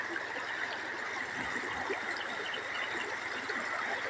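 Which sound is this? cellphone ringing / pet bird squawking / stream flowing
stream flowing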